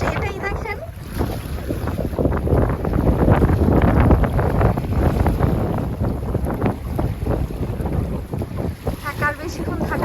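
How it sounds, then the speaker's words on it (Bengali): Strong night wind on a riverbank buffets the microphone in a loud, roaring rumble that swells and eases over ten seconds, with a rushing, water-like wash beneath it. "দেখেন কি পরিমাণে বাতাস"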